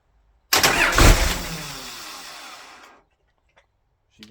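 A 12 valve Cummins diesel engine cranks and fires, a loud rumbling roar that surges and then fades over a couple of seconds, followed by near silence with a faint knock or two.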